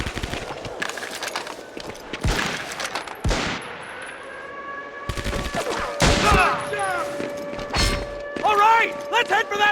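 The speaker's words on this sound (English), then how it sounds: "It's an MG-42! That MG-42's blocking our way!" An MG-42 machine gun fires in bursts in the World War II shooter Medal of Honor Vanguard, mixed with thuds, mechanical clatter and battle noise while voices shout over the action.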